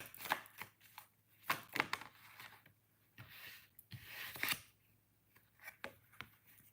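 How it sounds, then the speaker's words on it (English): A deck of cards being shuffled during a live tarot-style reading, a quiet series of crisp riffling bursts and soft slaps repeating at irregular intervals, close and faint with no talk. "You saw me shuffle that deck."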